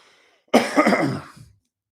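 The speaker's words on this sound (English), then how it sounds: "once I clear my throat" A single person clears their throat once in a short, rough burst with a cough-like edge, close to the microphone, set between stretches of near silence.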